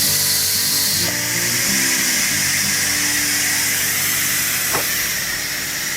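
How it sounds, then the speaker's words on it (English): Instant Pot pressure cooker venting steam on release while cooking a rack of ribs, a steady loud hiss filling the whole stretch with faint clicks behind it. "As soon as this is to 0, I'm gonna turn the steam into release."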